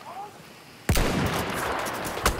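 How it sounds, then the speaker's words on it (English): Machine gun fire in a first-person shooter game on the Giant's Shadow map, a sudden loud burst that continues as dense sustained gunfire with a sharp extra shot near the end, while a player talks over it. "There's a machine gun!"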